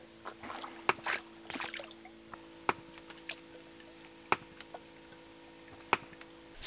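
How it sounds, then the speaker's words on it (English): Water from a ram pump's waste valve spills out through the far end of a garden hose, a faint trickle and dribble punctuated by sharp periodic clicks, with no talking. "we can see the water that is coming out of the waste valve currently"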